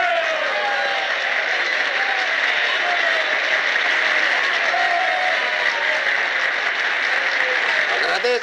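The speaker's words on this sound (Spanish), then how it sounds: "Agradezco estos aplausos tan desnutridos, a la par que merecidos" Dense, steady crowd applause at a political rally, loud and continuous throughout, with some voices mixed in.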